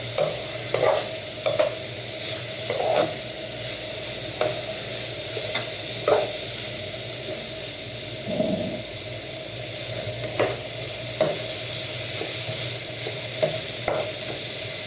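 Egg is fried and stirred with potatoes, turmeric, chili and cinnamon in a pan: a steady close sizzle with repeated scraping stirs at an uneven rhythm, no voices.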